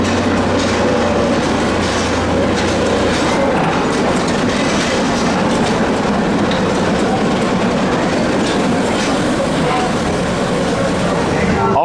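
The Pleasure Beach Express, a miniature train at Blackpool Pleasure Beach, rolls in toward the platform with continuous loud rumbling and clickety-clack of wheels, close by and steady throughout, with faint crowd chatter underneath.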